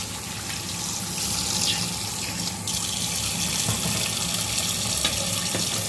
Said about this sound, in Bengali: এটা মাছটা আমি ধুয়ে নিলাম